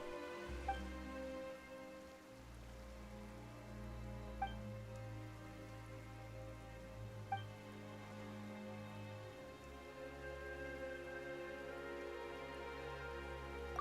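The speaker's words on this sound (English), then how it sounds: "Why is it raining all of a sudden?" Steady rain falls on surfaces in the video game Genshin Impact, a soft continuous patter under low sustained game music with a few faint chimes, and no talking.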